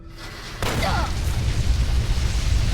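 A frag grenade explodes in Fallout New Vegas: a sudden loud boom that swells into a sustained, rumbling roar lasting the rest of the moment.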